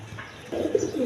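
A crested pigeon pair in a sale cage gives a short, close burst of low cooing in the second half after a quiet start. No voices are heard.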